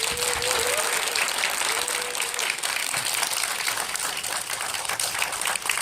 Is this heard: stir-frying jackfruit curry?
no